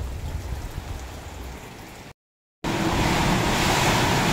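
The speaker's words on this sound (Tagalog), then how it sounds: "Wow, lakas po ng ulan dito." Heavy rain driven by strong typhoon winds, a dense steady roar that cuts out briefly and then returns louder and closer, with no voices.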